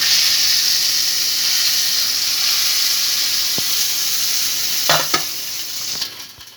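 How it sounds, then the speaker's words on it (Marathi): Mustard seeds, cumin, asafoetida and curry leaves crackle and sizzle loudly in hot oil for coconut chutney, a steady bright hiss with a few sharp pops near the end. "आता ही फोडणी आपण चटणीमध्ये टाकून घेऊयात."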